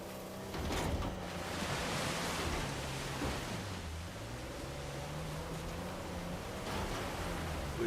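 Steady broadband rush of a waterfall beside a hidden cave in the video game Uncharted 4, a continuous even roar with a low tonal music bed running underneath.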